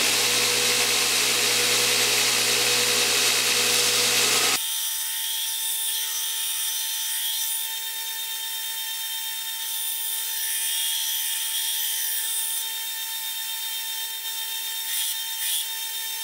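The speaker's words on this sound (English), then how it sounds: "Anyway, back to the grinder." A bench grinder shapes the bevels on a Japanese-style kitchen blade held in a vise, a loud, steady high-pitched whine that runs continuously throughout, with harsh rasping grit and brief changes in tone as the steel contacts the wheel.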